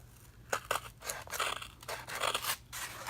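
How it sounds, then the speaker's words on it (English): Scissors snipping through a cardboard paper towel roll to cut it in half, a series of close, crisp cutting crunches and scrapes in uneven bursts with no talking. "you're going to need a paper towel holder, which I am actually just going to cut mine in half."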